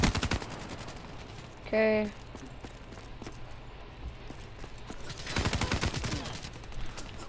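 Gunfire in the Call of Duty Black Ops III multiplayer video game: a burst of rapid shots near the start and another fast volley toward the end, loud and close, with a voice speaking briefly between them.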